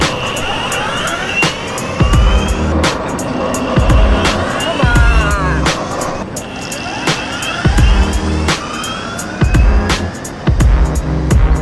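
A Juice electric skateboard rides over pavement with a steady motor whine, rolling wheel noise and repeated low thumps over bumps, loud and close throughout.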